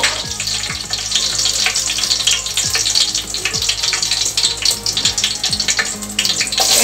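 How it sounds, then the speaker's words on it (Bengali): Chopped onions hit hot oil already frying with bay leaves, cloves and cardamom for a vegetable biryani, giving a loud, continuous crackling sizzle with scattered pops and no voices. "এখন দিয়ে দিব আমি পেঁয়াজ কুচি"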